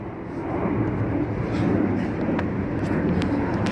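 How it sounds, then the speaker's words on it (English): An airplane flying overhead gives a broad, steady roar that swells slightly as it comes closer on a cold night outdoors, with no talking. "See, here's a plane coming."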